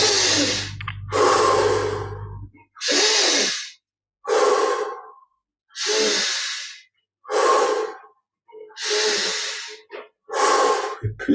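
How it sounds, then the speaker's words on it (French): Deep, regular breaths are taken one after another during a guided meditation series of deep respirations. Nine or so loud, close, breathy inhales and exhales are separated by brief silences, with no talking. "20 respirations profondes."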